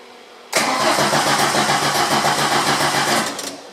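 Starter cranking over the engine of a 1983 VW Rabbit GTI, a steady, loud, rhythmic churn lasting about three seconds before it tapers off, with no talk.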